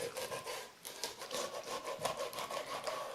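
A kitchen knife cuts through a raw salmon to remove the head and tail, producing close, steady rasping and scraping strokes.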